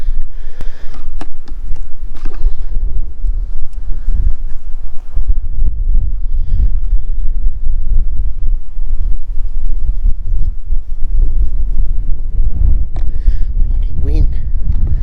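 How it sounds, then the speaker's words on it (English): Steady, loud wind buffets the microphone outdoors during a mushroom-hunting trip, a constant low roar and rumble throughout, with someone speaking intermittently underneath. "Bloody wind."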